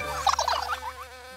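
A short, close buzzing hum of cartoon robotic bees swells briefly and then fades away.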